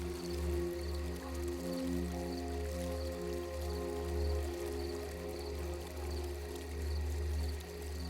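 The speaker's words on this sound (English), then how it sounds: "Water flows in a smooth, continuous stream." Steady fountain water pouring in a continuous stream, a gentle, even splashing close by with faint bubbling variations and no one speaking.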